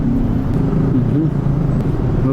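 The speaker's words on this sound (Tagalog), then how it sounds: "At kasalukuyan tayong makikibaka sa traffic dito." Heavy road traffic around a motorcycle rider, with a loud, continuous low rumble of idling and crawling vehicle engines close by and a faint higher whine above it.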